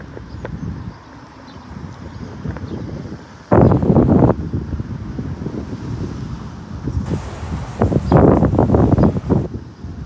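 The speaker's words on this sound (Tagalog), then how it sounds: "At mahangin na naman siya." Gusty wind buffeting the microphone outdoors in a New Jersey neighborhood, with loud rumbling bursts breaking over a steady outdoor background.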